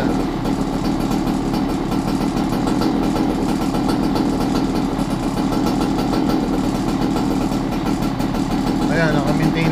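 A Goped GTR scooter's small engine, newly fitted with a tachometer, runs loud and close in a steady buzzing drone, with voices faintly underneath.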